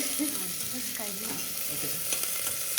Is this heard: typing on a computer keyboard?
no